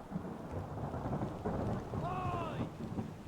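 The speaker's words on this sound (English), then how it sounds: "Storm's coming!" A rolling thunderstorm from the video game Return of the Obra Dinn rumbles with steady rain, while a brief tonal call, likely a shouted voice, cuts through midway.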